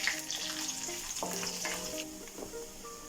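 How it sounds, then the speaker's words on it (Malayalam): Garlic sizzles crisply in hot oil in a pan while a spoon stirs it, a steady close frying crackle with occasional scraping, made as the base for a dry beef fry. "വെളുത്തുള്ളി എല്ലാം ഇട്ട് കൊടുത്തിട്ടേ നല്ല ക്രിസ്പി ആവട്ടെ കേട്ടോ. നമുക്കത് ഇളക്കിയെടുക്കാം"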